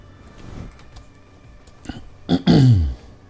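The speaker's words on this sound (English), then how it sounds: "Burp, burp, burp, burp." A loud, close burp erupts after a quiet stretch, a short throaty burst followed by a longer, low croaking belch.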